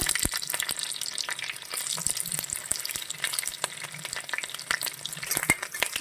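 Garlic frying in a pan, a steady close crackling sizzle with dense rapid pops that keeps going without a break and with no voices.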